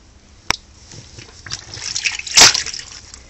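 Water pours and sloshes into a Maytag Bravos washer loaded with towels, starting with a sharp click and building to a louder splashing rush near the end.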